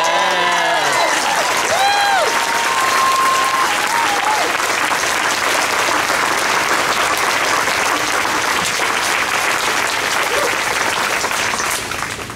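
A large outdoor rally crowd supporting the Highland Park community cheers and applauds continuously, a dense, loud wash of clapping and whoops with a few voices shouting over it throughout.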